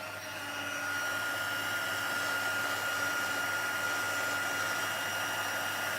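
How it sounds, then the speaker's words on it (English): A heat tool melting embossing powder blows with a steady, close airy whir and faint tonal hum, constant throughout with no voices. "I'm going to grab my heat tool and just melt that powder"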